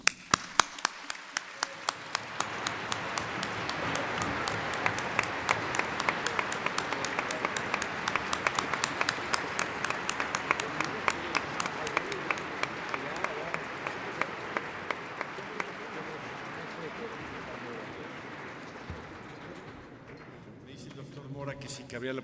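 A concert audience at Mexico's National Library applauds at length after the performance, sharp individual claps standing out over a broad sustained wash, fading near the end.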